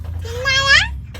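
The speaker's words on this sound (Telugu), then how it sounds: "ఓ పిల్లి ఏం చేస్తున్నావు" A cat gives a single clear, rising meow, close and fairly loud, over a low steady background hum.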